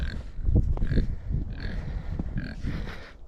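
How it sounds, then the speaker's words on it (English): Pigs on a farm with deep, slick mud grunt low and close in short, uneven bursts, with higher animal sounds flickering over them. "it's hard for me to feed the dang pigs"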